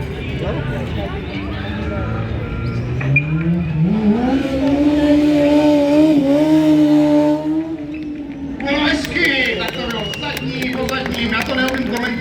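Stunt motorcycle drifting at a motor show, its engine revving and climbing in pitch, then dropping before bursts of tire noise, with loud announcer commentary over the top.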